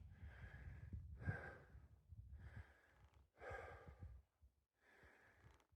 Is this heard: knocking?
no